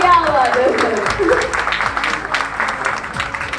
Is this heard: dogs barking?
no